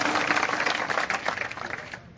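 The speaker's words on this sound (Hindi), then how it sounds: "एक बार तालियां बजाकर स्वागत करें" A crowd at a Saini community sit-in protest claps to welcome a speaker, a steady wash of applause from many hands that fades out over a couple of seconds.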